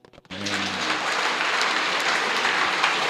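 A church congregation bursts into loud, sustained applause and cheering to acclaim Jesus during a sermon. The clapping starts abruptly and holds steady as a dense, close wash of sound.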